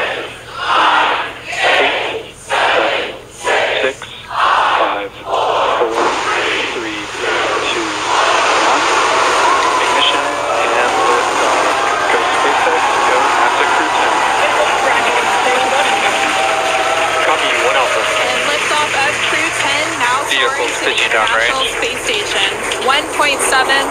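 A SpaceX Falcon 9 carrying Crew 10 lifts off after a spoken countdown, its engines building into a loud, continuous crackling roar that swamps everything for the remaining twenty seconds.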